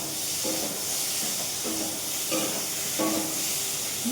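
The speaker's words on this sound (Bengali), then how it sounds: "পটলের আলু ভাজা হয়ে গেছে, পটল ভাজছি" Pointed gourd (potol) fries in a pan at home, producing a constant loud hiss with a few short knocks and scrapes of stirring, and no talk.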